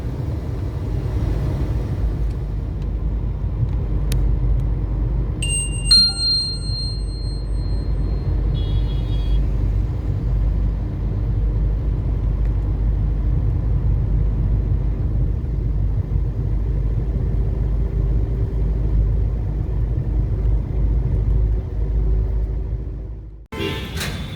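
Car cruising on a three-lane highway in Andhra Pradesh, India, a steady low engine and road rumble with some faint high beeps early on, ending in a sudden louder burst.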